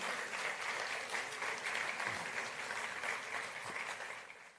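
An audience applauds at the inauguration of a management development centre at IIM, a steady, fairly faint spread of many hands clapping together that slowly fades toward the end.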